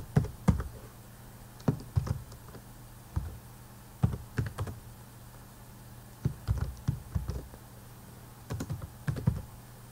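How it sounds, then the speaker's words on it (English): Fingers tap on a computer keyboard in short bursts of quick keystrokes, close by, with brief pauses between runs. "I'm going to use my keyboard."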